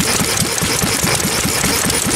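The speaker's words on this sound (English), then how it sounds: "This is the strictly gasoline motor." Antique gasoline-only Hercules stationary engine, model JI, from about 1925, running at a fall engine show with loud, steady, rhythmic chuffing beats close by.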